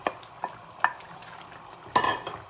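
Paneer cubes go into a simmering curry and are stirred, giving soft, quiet scrapes and occasional light clinks of a utensil against the pan over a faint low bubbling.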